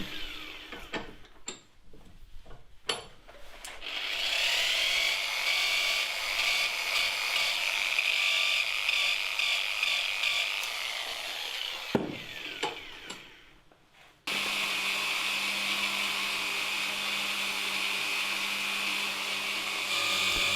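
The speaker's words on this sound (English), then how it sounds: "only get the wire brush onto the very back of the valves and avoid scratching the stems further up" A wire brush scrubs carbon from the inlet valves of a Peugeot 106 1.1 TU engine, giving a long, steady whirring rasp, then a short pause and another grinding stretch with a lower hum.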